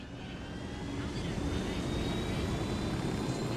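Helicopter in the video game Ghost Recon Wildlands, a continuous droning rotor and engine roar holding steady throughout with a faint high whine on top.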